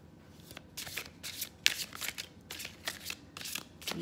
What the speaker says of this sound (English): These need a good hard shuffle.